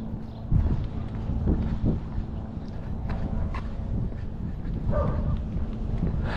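Dogs bark a few times at some distance during a walk along a street, short scattered barks over a steady outdoor background hum.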